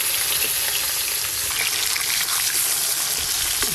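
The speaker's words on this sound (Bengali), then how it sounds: "3 পিস করে ভাজা হচ্ছে তো।" Pieces of katla fish fry in hot oil, three at a time, with a steady, dense sizzle that crackles and spits throughout, close and loud with no voices.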